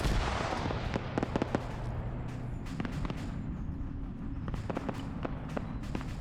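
Sharp gunshots and heavier booming artillery fire crackle throughout a military video game battle, scattered irregular bursts over a steady dense rumble of combat noise.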